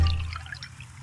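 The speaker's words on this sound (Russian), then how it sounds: "Наливаем чай в чашку." Tea poured from a pot into a cup in the Nancy Drew detective game Danger on Deck-style setting: a short, continuous liquid pour with a steady trickle, fairly close and alone, without speech.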